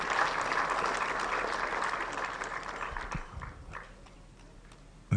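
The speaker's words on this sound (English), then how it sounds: "Let's give the sisters another round of applause, and to Francis as well." Sustained audience applause, dense and steady, fading out toward the end.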